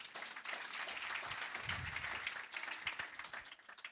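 Applause from the audience at a university research day session, a moderate wash of clapping with a few louder individual claps and a brief low murmur midway.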